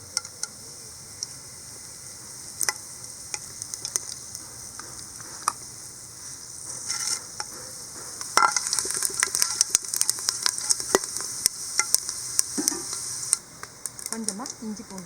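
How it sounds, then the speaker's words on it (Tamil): Bay leaf and whole spices sizzle and crackle in hot ghee in a heated pressure cooker, a steady close frying hiss with scattered pops that grows busier and louder partway through, with no talking. "நெய் விட்டுடலாம். பிரியாணி இலை, ஸ்பைசஸ் எல்லாம் போட்டுடலாம்."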